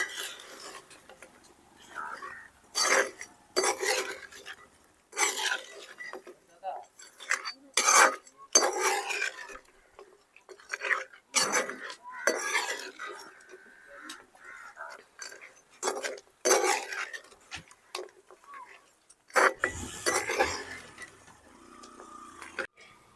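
Chicken pickle being mixed with lemon juice in a metal vessel, with repeated loud scraping and clinking of a spoon against the pot in irregular bursts, close up, with no talking.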